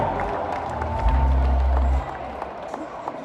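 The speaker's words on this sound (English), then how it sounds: "let's give a big round of applause there" An audience at a butcher competition event gives a round of applause, dense clapping and crowd noise filling the room, with a deep low rumble swelling briefly midway before the clapping thins out.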